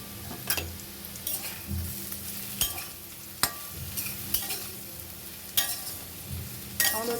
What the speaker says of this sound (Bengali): তো দেখো এদিকে কিন্তু আমি আলু ভাজা করছি।